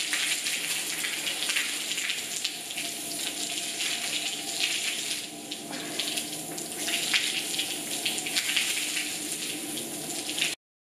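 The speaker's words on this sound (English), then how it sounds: "the water rinse is not going to be too hard on horse" A hose rinses a horse with warm water in a gentle, steady spray, the splashing and trickling running close and continuous before stopping abruptly at the end.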